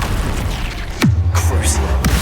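In the game Hogwarts Legacy, a Confringo spell fires with a sharp whoosh that swoops down into a loud, low rumbling blast, set against constant busy game noise.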